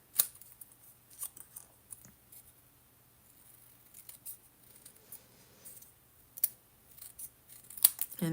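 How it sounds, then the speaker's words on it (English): Scissors snip through a small paper card sentiment label in a quiet room, a handful of crisp close cuts spaced irregularly with near silence between them. "I'm going to trim this down for a very small sentiment label. We'll angle cut as well."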